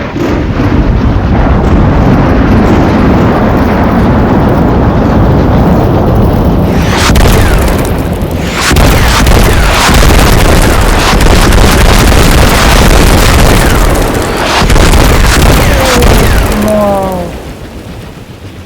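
Heavy explosions from a bombardment of a building in a war video game rumble loud and continuous, with deep booms rolling through several bursts and a brief pause before they fade.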